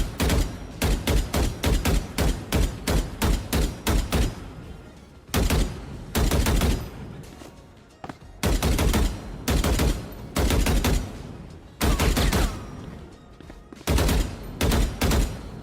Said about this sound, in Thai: อันนี้คือเสียงปืน